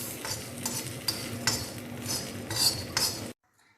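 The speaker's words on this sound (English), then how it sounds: "We are going to dry fry all these items." Sesame seeds, black pepper and Guntur chilies dry-roasting in a pan, stirred in a run of scraping, rustling strokes that stop abruptly into near silence at the end.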